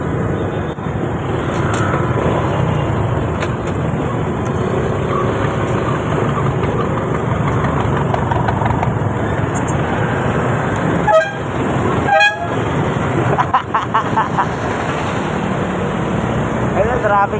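Busy street traffic with engines idling and a steady roar, broken by several short car horn toots near the middle and end, with people talking throughout.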